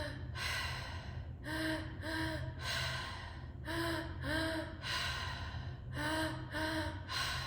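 A breathwork exercise with deep rhythmic breathing: about a dozen strong, audible inhales and exhales, some sharp and gasping, close and loud, with no talking.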